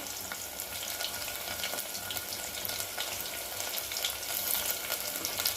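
Green chillies and a bay leaf frying in hot oil, a dense, continuous sizzle and crackle that holds evenly throughout, with no voice over it.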